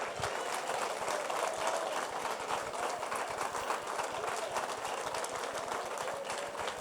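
A church congregation claps in a long, dense, continuous wash of applause during a service, filling the room at an even level without pause.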